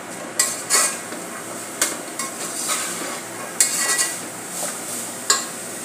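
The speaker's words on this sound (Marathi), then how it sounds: "वाटाणा, फ्लावर आणि गाजर। यामध्ये घालून घेऊया। चांगले परतून घेऊया।" Peas, cauliflower and carrots are sautéed in a pan, with a soft sizzle under repeated sharp metallic clanks and scrapes of a spoon stirring against the pan at irregular intervals.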